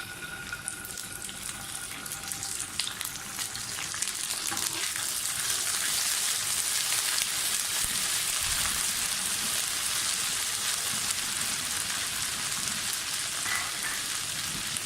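Garlic ginger paste hits hot oil and bursts into a loud, dense sizzle that swells after a few seconds and then holds steady and close, with no voices.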